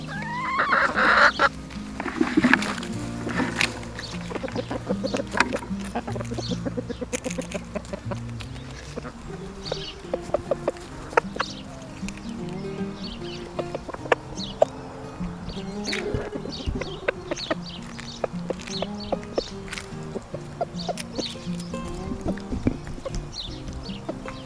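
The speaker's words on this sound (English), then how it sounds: "Those little clucks are actually the roosters telling the hens, like, hey, there's food over here." Cornish Cross chickens, roosters and hens, cluck and murmur close by in a continuous, busy chorus, with scattered sharper calls and soft rustling throughout.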